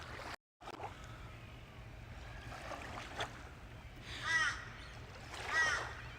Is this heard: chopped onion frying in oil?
no